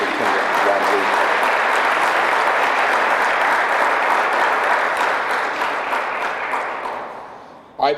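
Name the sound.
applause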